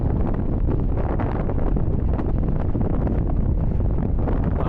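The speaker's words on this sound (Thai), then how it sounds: "โอ้ยลมเย็นดีขนาดนี้" Steady wind rushes and buffets across the microphone outdoors near a railway station, a constant loud roar with no pauses and no voices.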